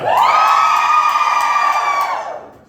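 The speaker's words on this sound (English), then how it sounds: "Women, give me a cheer!" A crowd of women in a Sydney comedy club audience, prompted by the comedian, lets out a loud, high-pitched collective cheer and whoop, held steadily before tapering off.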